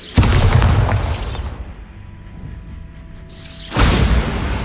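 Bombarda spell explosions in Hogwarts Legacy: a loud booming blast at the start, a quieter humming lull, then a second heavy boom near the end.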